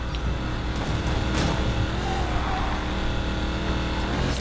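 Chevrolet Camaro engine in the Need for Speed Payback racing game, a steady, loud motor drone running continuously throughout without any clear gear changes.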